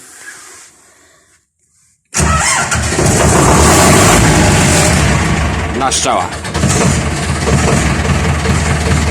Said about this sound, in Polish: Zobaczymy jak sprzęt odpali, dawno nieużytkowany.